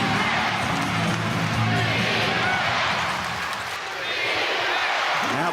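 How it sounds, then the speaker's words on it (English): Arena crowd noise at an NBL basketball game between the Sydney Kings and Brisbane Bullets at Kudos Bank Arena, a loud, steady roar of cheering throughout with a commentator talking over it. "Now the crowd really making some noise at Kudos Bank Arena."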